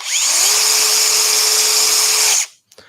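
A power drill whirs up and bores steadily into a wooden scroll-saw piece for about two seconds at a loud, close, constant pitch, then stops.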